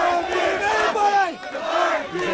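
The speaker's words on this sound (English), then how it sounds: "Crowd chanting" A wrestling crowd chants in unison, many voices rising and falling in a loud, rhythmic group chant that fills the arena, briefly dipping before resuming.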